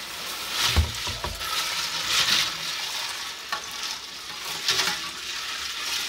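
Someone stirs a turkey brine mixture, with irregular sloshing and swishing strokes of liquid, fairly close and quiet, with no talking.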